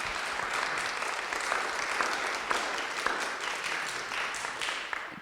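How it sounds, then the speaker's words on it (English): Steady audience applause for a lawyer after a talk on legal and financial choices, moderately distant and even, with a few sharper claps standing out. "Could we do a round of applause for Chris Kradle,"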